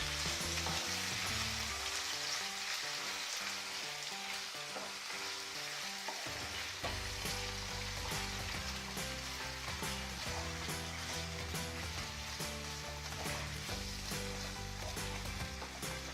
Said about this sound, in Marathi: प्रथम आपल्याला तेलामध्ये चांगला भाजून घ्यायचा आहे।